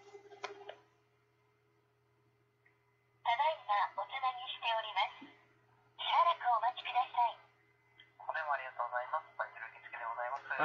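A phone call is placed to a temp agency: a brief tone at the start gives way to quiet, then a thin, band-limited voice answers over the telephone line and speaks in short stretches.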